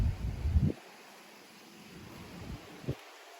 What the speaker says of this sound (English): it's just a little windy, so there might be a little wind noise